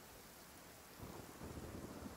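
Rain falls steadily in a stormy Inazuma setting in Genshin Impact, with a soft low thunder rumble swelling partway through; faint and distant, with no voices.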